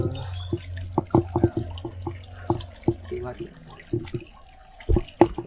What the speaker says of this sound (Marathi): अगदी शांततेत आवाज ऐकाल तर पाण्याच्या बुडबुड्यांचा आवाज सुद्धा येतो.